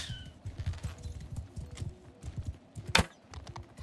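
Horse hooves clop in a fast, uneven rhythm during a mounted ride in the medieval combat game Mount & Blade II: Bannerlord, close and steady, with one sharp hit near the end.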